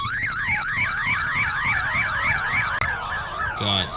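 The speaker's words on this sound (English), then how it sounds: "Got car alarms." A car alarm wails through rapidly cycling electronic tones, loud and close, broken by a brief click and a short burst of a different pattern at the end.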